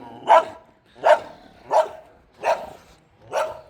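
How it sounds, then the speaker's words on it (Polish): A nervous dog barks five times at a steady pace, each bark sharp and loud, fairly close, with no talking over it. "Patrzcie, jaki piesek."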